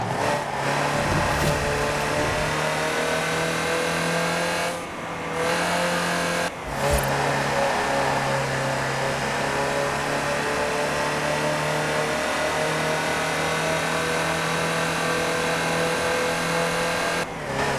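In Forza Horizon 4, a Land Rover Type 3 drives under a loud, steady engine drone held at nearly constant revs, broken by two short dips from gear changes, close and continuous throughout.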